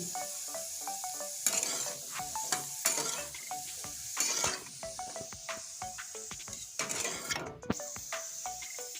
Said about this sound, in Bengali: এখন হলুদ লবণ কিছুই দেবো না এমনি ভেজে দেবো লাল করে